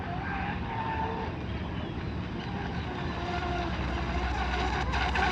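A J&R Marine H26 radio-controlled boat with a modified hull running on open water, a constant high buzzing motor whine with rushing water and wind noise, steady and fairly loud throughout.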